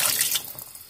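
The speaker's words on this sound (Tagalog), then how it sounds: "Lagyan pa natin ng konting tubig." Water pours from a glass into a pot of salmon sinigang, a brief rushing splash that fades within a second, with no talk over it.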